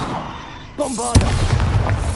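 A Bombarda blasting spell explodes in a Hogwarts video game, a sudden broadband boom that rings on through a dense, rumbling tail after a short swooping magical whoosh.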